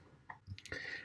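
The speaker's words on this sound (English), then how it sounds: "This is now my Rottweiler sitting at my feet with a very large antler that she is chewing on." A Rottweiler gnawing on a very large antler at close range indoors, with scattered wet clicks, scrapes and squishy bites in an irregular rhythm, fairly faint.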